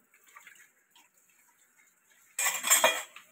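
Dishes being washed at home, with faint scattered clinks at first, then a sudden burst of louder clattering of utensils and pots with running water close by.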